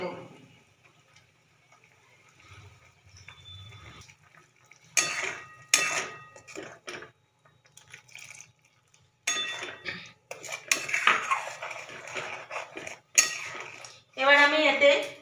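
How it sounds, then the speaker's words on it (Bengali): Small spice bowls rinsed with water and knocked together, a run of sharp clinks and clatters in bursts, some loud and close, separated by quiet gaps. "প্রত্যেকটা বাটি ধুয়ে জল দেব"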